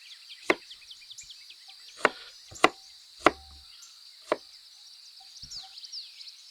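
Onion is cut coarsely on a board with sharp, separate knife chops, about six irregular strikes close by, while crickets chirp quietly in the background outdoors.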